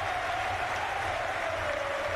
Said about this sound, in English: that's the loudest cheer yet for Frank Lampard